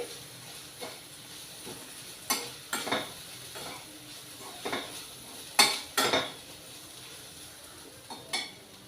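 Grated coconut and fried onions stirred in a pan, a spoon scraping and clinking against the metal in irregular strokes over a faint sizzle, close and fairly quiet.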